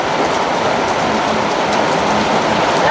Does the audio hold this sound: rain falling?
yes